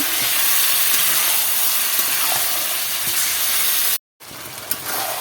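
Marinated meat stirred into a small amount of hot oil in a pan, giving a steady, loud sizzling hiss with faint scraping, briefly cut by a short silence before the frying resumes.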